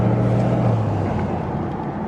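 A tuned Mercedes-AMG E63S Stage 2 Plus engine gives a deep, close rumble that settles and eases slightly as it continues, with no talking.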